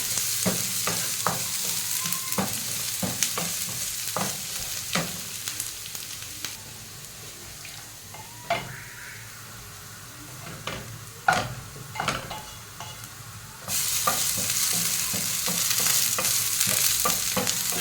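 Greens frying with a little beef in a hot pan, a loud steady sizzle broken by frequent scraping and clinking stirs of a utensil against the pan, with no voices.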